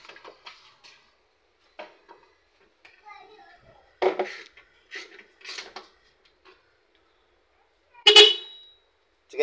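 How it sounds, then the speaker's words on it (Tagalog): A Hyundai i10 car horn gives a single short blast near the end, sounding close and loud. People talk in the quiet stretch before it, during a timing belt repair. "Busina lang yan. Try ko busina."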